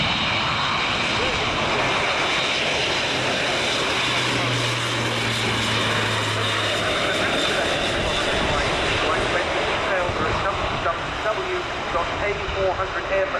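Airbus Atlas A400M military transport turboprop roaring loudly and steadily throughout a flying display at RIAT Fairford, a continuous broad engine drone with crowd or commentary sounds faintly mixed beneath.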